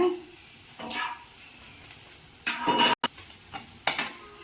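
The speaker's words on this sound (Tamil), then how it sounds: "அந்த மிளகாத்தூள் பச்சை வாசனை போகிற அளவுக்கு வதக்குவோங்க" Chili powder being sautéed in a pan, with soft sizzling under several bursts of scraping and stirring, spoon-on-pan clinks and a brief sharp dropout partway through; no voices.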